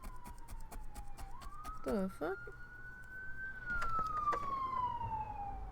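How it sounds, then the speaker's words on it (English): Emergency vehicle sirens wailing outside, a long rising and falling tone passing at a distance with a second brief siren burst, under background room noise while a voice briefly exclaims. "More sirens. Oh goodness. What on earth's going on? All of the sirens."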